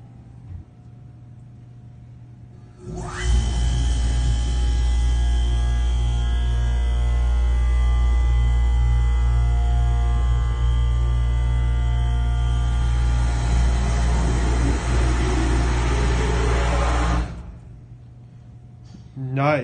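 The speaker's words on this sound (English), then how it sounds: "This is what the motor sounds like." An Otis Series 5 elevator machine motor, manufactured in 2005, starts up in the machine room and runs as a loud, steady, close hum with tonal whine for about fourteen seconds before cutting off, over a constant background mains hum.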